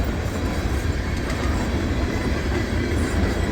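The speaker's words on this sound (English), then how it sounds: "This train's only 298 axles" A CSX freight train hauling boxcars rolls past at close range in snowy Point of Rocks, a steady loud rumble with rhythmic clickety-clack of wheels over rail joints and no voices.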